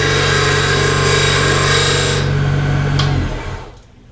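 Steady, loud whirring hum of a woodturning lathe as a turning gouge, bevel riding, cuts into spinning wood, holding continuously before winding down and fading out near the end.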